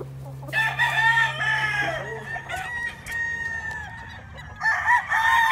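Roosters crow loudly and close by in a farmyard, with clucking between the crows and a steady low hum underneath for the first half.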